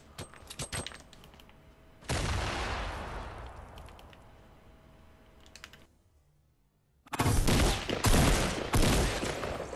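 Video game gunfire comes in loud, rapid bursts, with one long volley followed by a quieter stretch and then another dense barrage. A scattering of keyboard or mouse clicks is audible underneath.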